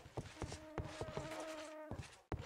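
Bees buzz in RLcraft, the Minecraft modpack, a close, steady droning hum running through the clip, broken by repeated short tapping footstep-like game sounds.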